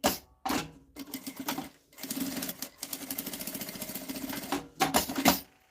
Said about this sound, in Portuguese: passo uma costura com um pé de máquina